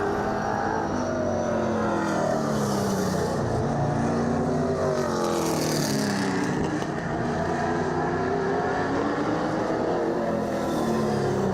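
Race car engine heading out for a couple of practice laps during intermission while suffering motor problems, a loud, close, continuous drone with rising and falling revs as it accelerates and shifts, no voices present.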